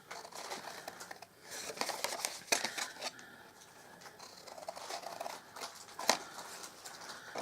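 Scissors snip through card for a Halloween Creme Egg box, a steady run of quiet crisp cuts and paper rustle with one sharper snip near the end.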